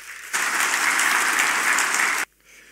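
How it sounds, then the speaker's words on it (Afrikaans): A church congregation breaks into hearty applause at a confirmation service, a burst of close, even clapping that starts abruptly, holds for about two seconds, then cuts off into quiet room sound. "Kom ons sê ek sommer net vir hulle ook 'n lekker hande klap."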